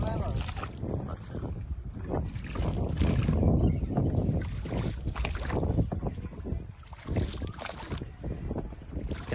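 A wooden rowing boat moves on a river, oars and water sloshing in uneven strokes amid heavy wind buffeting the microphone; a voice speaks faintly underneath.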